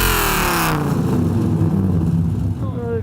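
A 1997 Dodge Viper GTS with its V10 engine, heard loud and close as it revs up then settles into a deep, throbbing burble, with a brief rising pitch sweep near the end.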